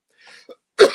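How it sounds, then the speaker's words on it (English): A person gives a couple of light coughs, followed by a louder, harsher cough at the end, close and alone without speech. "I'm coughing every 5 seconds"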